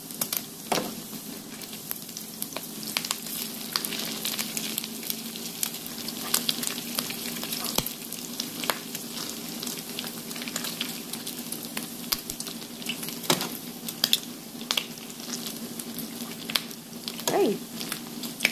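Bacon frying in oil gives a close, steady sizzle with frequent sharp crackles and pops scattered throughout, and no talking.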